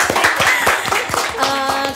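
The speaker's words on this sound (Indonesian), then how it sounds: "Boleh tepuk tangan." A small podcast audience claps with a steady run of distinct hand claps, close and fairly loud, while voices and a brief sung or toned phrase come through over it.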